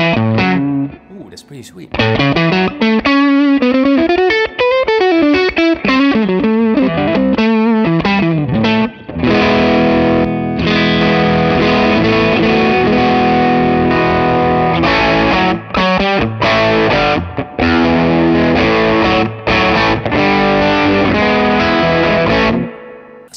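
An electric guitar played through a Matchless HC-30 amp with the gain turned up gives loud, gritty sliding lines and then sustained driven chords and stabs, with a brief spoken reaction near the start.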